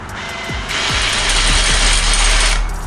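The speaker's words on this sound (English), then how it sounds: "We're going to start drilling down." A drill boring a tapping hole for an M6 thread in aluminum for a Jeep XJ roof rack, a steady loud grinding whine running about two seconds with a few mechanical clicks at the start.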